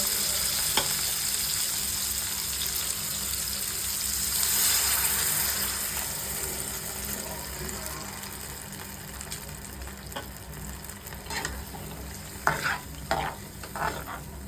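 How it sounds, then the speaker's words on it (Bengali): Onion and capsicum sizzling in a pan with spices for a chilli paneer gravy, a continuous close frying hiss broken by scraping stirs and a few sharper clatters toward the end, with no talking. "যেহেতু পেঁয়াজ ক্যাপসিকাম ভাজা হয়ে গেছে, এবার আমি গ্রেভি করার জন্য মশলাটা দিয়ে দেব।"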